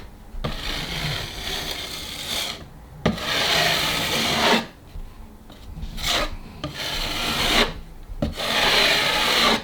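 Ceiling material being scraped off overhead, with long, close rasping strokes repeated in bursts and separated by brief pauses. No talking.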